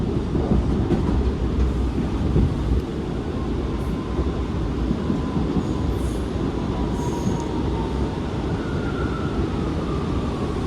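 An R179 subway car on the Rockaway shuttle rumbles loudly and steadily from on board, with wheels clattering and squealing faintly along the rails and no voices present.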